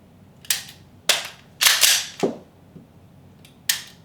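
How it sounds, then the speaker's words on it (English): A handgun is dry-fired on snap caps, giving five sharp, separate metallic clicks and snaps spaced about half a second apart, close and distinct against quiet background. "you're going to get a click instead of a bang"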